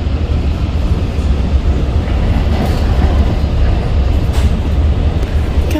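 A New York commuter train running from Shirley to Jamaica Ave, a loud continuous low rumble and rattle of the rail car in motion, steady throughout with no talk.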